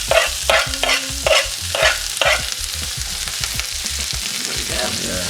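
Coriander stems fry in a pan, a constant sizzle broken by rhythmic scraping stirs from a utensil, close and fairly loud with no talk.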